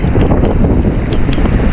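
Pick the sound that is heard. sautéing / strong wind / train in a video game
strong wind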